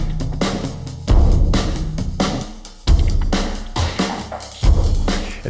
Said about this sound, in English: All the drums together sound like this.